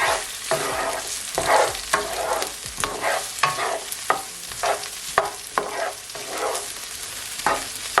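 Jamaican tinned mackerel run dung with scallion and fresh thyme being stirred in a pot, a steady loud sizzle broken by repeated scraping stirs at an uneven rhythm, close up with no talking.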